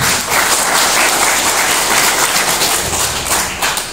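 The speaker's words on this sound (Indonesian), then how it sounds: "Tepuk tangan dulu." A seminar audience on eco farming claps together, a dense, loud burst of applause that holds steady for several seconds before tapering near the end.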